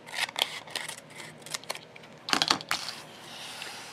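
Scissors snip through a paper bag flap in a series of short, crisp cuts and rustles, close and fairly quiet, with a denser cluster of snips partway through.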